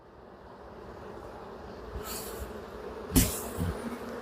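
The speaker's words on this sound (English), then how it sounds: "Get these bees off me." Honey bees buzz around an open hive during an autumn inspection, a soft, continuous drone with a couple of louder passes as bees fly close by, followed by brief knocks.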